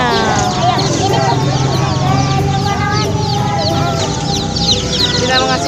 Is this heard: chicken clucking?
yes